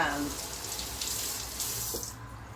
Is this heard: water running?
yes